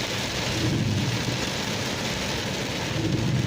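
Heavy rain pours steadily in a dense, hissing wash with a low rumble underneath, constant and close, with no voices.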